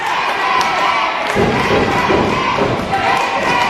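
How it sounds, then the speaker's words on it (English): A crowd at a professional wrestling show roars and chants, loud and close, with a heavy thud from the ring about a third of the way in and the crowd noise swelling after it. "The crowd chanting"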